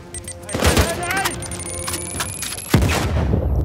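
Rapid bursts of gunfire in the video game Uncharted 4 crackle over layered game music and effects, with a sharp heavy blast near the end.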